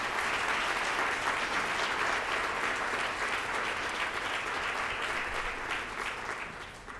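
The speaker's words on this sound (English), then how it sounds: "Let's give them all a round of applause." An audience at a Columbus Metropolitan Club public forum claps steadily for several seconds, a dense even wash of applause that tapers off slightly at the end.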